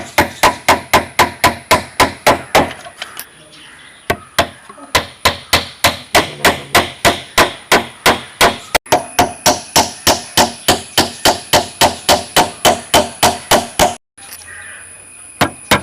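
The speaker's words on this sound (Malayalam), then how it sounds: "അപ്പോൾ ഞാൻ ഇത് ആണി അടിക്കാൻ പോവുകയാണ്." Hammer blows drive nails into wooden pieces for a handmade bed lamp: a long, steady run of sharp, loud, evenly spaced strikes, close up, with two brief pauses between bursts.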